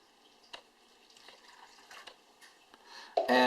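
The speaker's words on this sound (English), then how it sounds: "Now I want you to pour that salty water into the banana bag." Liquid splashes and trickles in short bursts as salty water is poured into a plastic bag, ending in a louder rush of pouring close by; no voices.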